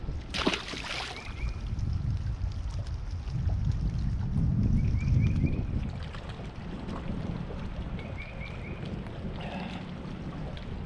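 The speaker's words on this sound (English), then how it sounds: "the wind is blowing so hard" Strong wind gusts across an open lake during pre-spawn bass fishing on Lake Lanier, a steady low rumbling roar with buffeting on the microphone that swells louder midway, plus faint splashes and brief higher tones.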